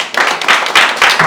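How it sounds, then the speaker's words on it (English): Audience applause at a stage performance, a short burst of clapping swelling in uneven waves, fairly loud and close, with no talking over it. "applause"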